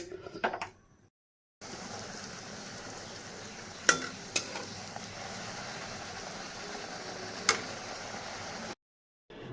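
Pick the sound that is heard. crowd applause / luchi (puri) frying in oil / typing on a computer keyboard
luchi (puri) frying in oil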